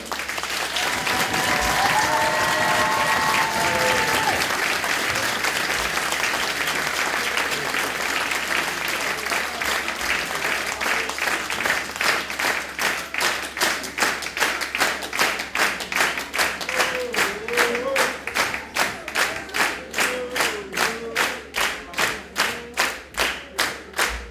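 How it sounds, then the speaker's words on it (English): An audience at a dance gala bursts into loud, sustained applause that gradually turns into rhythmic clapping in unison and speeds up toward the end, with a few voices calling out briefly. "Je vous demande de les applaudir encore une fois."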